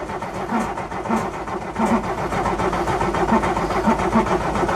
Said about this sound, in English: We're going to crank on it until the oil light goes out.